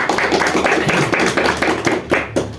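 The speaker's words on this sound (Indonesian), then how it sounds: "Mari kita beri tepuk tangan untuk mereka." Indoor audience applause at a catechesis session, a steady run of many hands clapping at close range with the rhythm swelling and fading over a couple of seconds.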